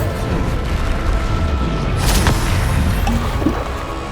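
A Bombarda blasting spell explodes in Hogwarts Legacy, a loud crashing burst with debris-like rattle over a constant noisy combat backdrop, followed by smaller clatters.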